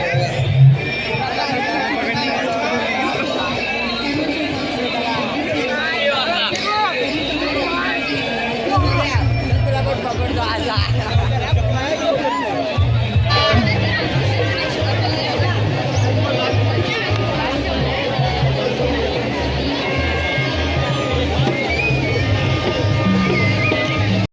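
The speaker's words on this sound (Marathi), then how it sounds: "अतिशय एकदम भन्नाट गर्दी आहे." A dense crowd mills through the Maha Shivratri fair at the Ambernath Shiv temple, a continuous babble of many voices close around, with a loudspeaker voice and low rhythmic thumping joining partway through.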